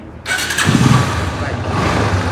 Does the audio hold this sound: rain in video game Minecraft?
no